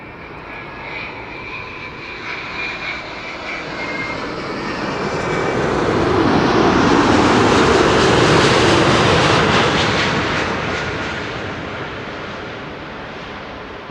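Air Europa Boeing 787-9 Dreamliner landing at Schiphol, a loud continuous jet roar that swells to a peak midway as the airliner passes close, then slowly fades, with no voices.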